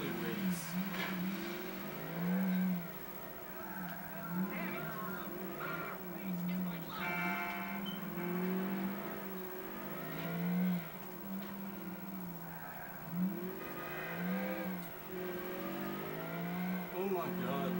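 A car in GTA IV speeds through narrow alleyways, its engine humming and surging in repeated revs under steady talk from a player.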